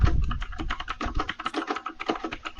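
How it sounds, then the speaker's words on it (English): Rapid, uneven clatter of keys typed on a mechanical keyboard, close and fairly loud, with dense overlapping clicks filling the whole stretch and no voices. "It's a mechanical keyboard."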